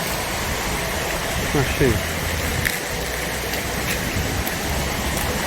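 A small stream and little waterfall beside picnic benches in northern Spain give a steady watery rush, with a person speaking briefly over it.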